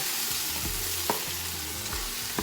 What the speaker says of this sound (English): it's actually frying good